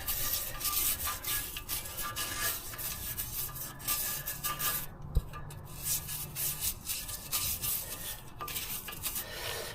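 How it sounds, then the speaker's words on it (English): A metal wire brush scrubs a Mercedes-Benz W212 E250 4matic front wheel bearing hub in repeated rasping strokes, fairly quiet and close, with a single sharp knock midway and no talking. "I have a metal brush so I can finish cleaning it"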